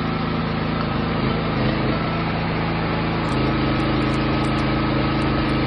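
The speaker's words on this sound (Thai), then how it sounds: "ระวังเสียงของเครื่องยนต์ขนาดเชื่อม" A 15 horsepower generator engine set up for welding idles smoothly and loudly up close, a steady high-pitched buzzing drone with a slight shift in tone midway.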